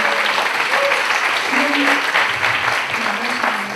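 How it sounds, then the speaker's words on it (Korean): A church college-group audience at a worship service gives a loud, even round of applause of thanks for its mentors, continuous clapping with a little voice murmur underneath. "우리 사랑하는 멘토님들께도 우리 한번 감사의 박수 드렸으면 좋겠습니다."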